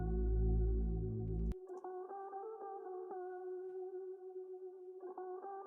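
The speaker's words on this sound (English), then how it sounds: "there's this guitar lead which I found from Slice" A guitar lead sample from Splice plays a clean melodic line of sustained tones with echo and chorus, following a brief low buzzy intro that cuts off, moderately quiet with no voices.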